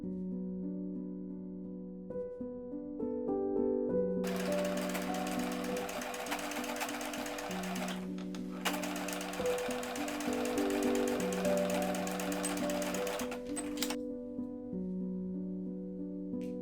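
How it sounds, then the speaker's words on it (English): A sewing machine stitches the seam of a single-layer reversible hanbok vest. Its motor hum runs throughout, and the needle chatters loudly and rapidly in two long close bursts with a brief pause between them. "Move the ties out of the way to ensure you don't accidentally sew over them."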